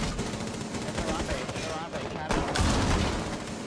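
Rapid, dense gunfire from Rainbow Six Siege, loud and close, with shots rattling continuously and swelling near the end, voices mixed in underneath.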